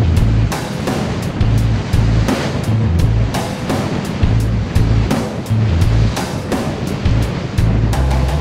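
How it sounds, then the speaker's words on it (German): Wind and rough North Sea waves batter a motorboat under way, a loud, continuous rush of water and wind with rhythmic low engine thumping and hull slaps. "je weiter wir uns in die Nordsee bewegen, umso schwieriger werden Wind und Welle"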